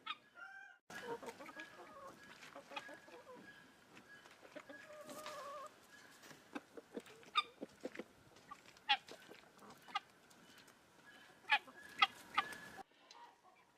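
Chickens on a Maine farm in spring mud season clucking and squawking in irregular bursts, with sharp louder calls standing out over a steady quieter background of fowl chatter, no speech.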